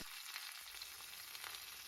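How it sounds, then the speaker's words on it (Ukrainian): Chicken breast frying in oil in a pan over medium heat, giving a steady bright sizzle with small crackles and pops, continuous and close with no talking. "Обсмажуємо на олії, смажимо на середньому вогні."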